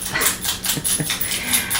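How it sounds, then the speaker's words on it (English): A dog scratches itself close by, making a steady rhythmic scuffing and rustling that runs continuously for under two seconds with no voices. "Next we are going to listen to my dog scratch himself."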